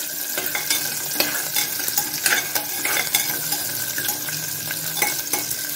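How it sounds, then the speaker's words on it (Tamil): Tomatoes and curry leaves sizzling as they're sautéed in a pan, with steady frying crackle and repeated stirring scrapes of a spoon against the pan, no talking. "போட்டு நல்லா வதக்கி விடுவோம்"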